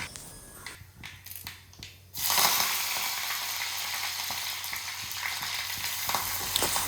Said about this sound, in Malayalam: കടുക് നന്നായി പൊട്ടിയ ശേഷം മാത്രം കറിവേപ്പില ഇട്ട് കൊടുക്കുക